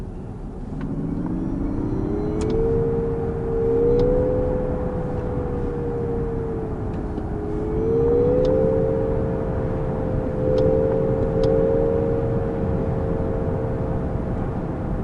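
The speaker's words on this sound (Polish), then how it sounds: "dodanie generowanego z głośników odgłosu podczas przyspieszania w trybie Nismo" Synthetic acceleration tone from the speakers of a 2026 Nissan Ariya Nismo electric car in Nismo mode, a steady rising and falling hum that swells with throttle over road rumble inside the cabin, no talking.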